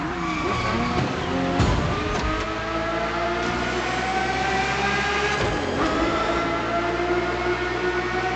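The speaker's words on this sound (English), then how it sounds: "The F50's core is a normally aspirated V12 that came straight from a Formula One." A Ferrari F50 with a naturally aspirated V12 engine in the racing video game The Crew Motorfest sustains a loud, steady high-pitched engine howl, with a couple of brief shifts or tire noises.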